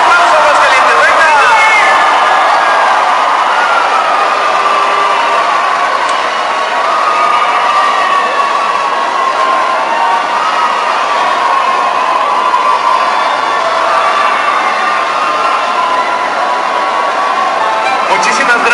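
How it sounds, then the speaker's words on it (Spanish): Large crowd cheering and applauding at a fair queen election in Aguascalientes, a dense sustained roar of voices, shouts and clapping filling the whole stretch at loud, steady level. "¡Que se escuche el aplauso, Aguascalientes!"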